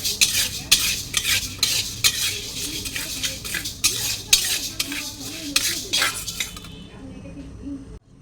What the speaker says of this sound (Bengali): ভেজে নিচ্ছি, মুগ ডাল।